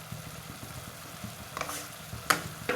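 Bitter gourd stir-fry being stirred in a pan, with a low sizzle under a few sharp spoon scrapes and clinks toward the end, close and brief.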